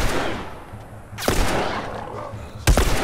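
Revolver gunshots in the video game The Last of Us, two loud, sharp shots about one and a half seconds apart, each followed by a short ringing tail over steady in-game ambience.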